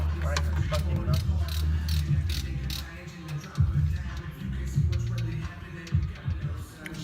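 Ratchet work on a car engine bay while belts are taken off the pulleys of an El Camino: repeated close mechanical clicking and metal rattling in uneven bursts, with some voice activity underneath.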